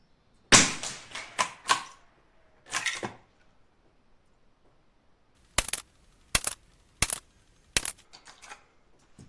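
Suppressed .22 LR rifle shots, sharp muffled cracks with a moderator fitted, in a quick burst of several shots, then a pause, then four more evenly spaced reports, each followed by a brief mechanical rattle.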